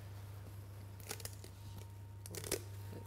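Kitchen scissors cutting through the bones of a snapper fish: a few short, faint crunching snips in quick clusters over a low steady hum.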